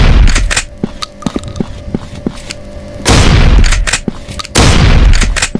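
Pump shotgun blasts at close range against zombies in the Turkish-made game The Last One: two loud booming shots with long tails, set among smaller sharp cracks and thuds, with no talking.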